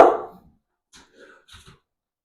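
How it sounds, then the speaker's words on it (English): Pet dog in a home kitchen during sourdough baking gives one loud, close bark at the start, followed by a few faint, short sounds and quiet. "Sorry, I have dogs."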